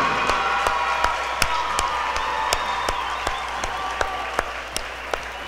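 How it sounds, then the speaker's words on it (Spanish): A boxing crowd at a fight event gives sustained applause, dense steady clapping filling the hall with a few louder claps and faint whoops throughout. "un aplauso para el Chachita y para el Totoy."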